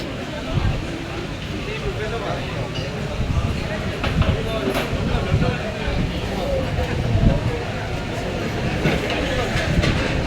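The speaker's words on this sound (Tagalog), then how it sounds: "Dadaan ang train dito." A train rumbles past with a loud, continuous low roar and faint rhythmic clatter, while people talk nearby amid crowd noise.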